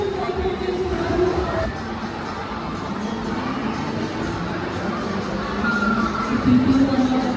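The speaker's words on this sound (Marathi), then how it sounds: "तर आज संडे असल्यामुळे मॉलमध्ये एवढी गर्दी आहे" Crowd hubbub fills a busy Sunday shopping mall, Phoenix Mall of the Millennium in Wakad, Pune. Steady, moderately loud babble of many voices with occasional children's shouts, and nearby people talking over it.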